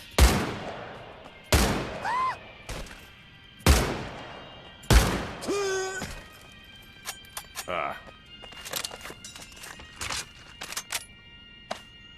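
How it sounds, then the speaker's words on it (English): A Gewehr rifle in the VR video game Medal of Honor: Above and Beyond fires several sharp single shots at irregular spacing, loud and near, with someone talking between and over them. "Rapidly firing the Gewehr's entire magazine will cause its accuracy to go wild"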